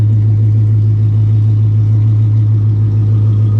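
A loud S650 Mustang GT with mufflers idles up close, a deep, steady rumble that holds constant with no revving and no talking.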